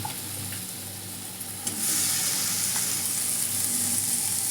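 Ingredients stirred in a frying pan while cooking a chickpea and potato vegetable dish. A continuous close sizzle swells louder midway as something is added, with occasional spatula scrapes and no talking.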